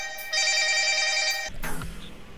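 A phone rings with a single bright electronic tone that lasts about a second before cutting off into a brief rustle.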